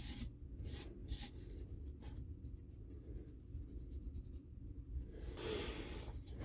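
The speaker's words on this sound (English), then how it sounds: "Wipe off the excess." Rubbing and wiping strokes as excess glue is wiped off a balsa model airplane fuselage during a kit build, a series of close, soft, irregular scrapes with brief pauses and no talking.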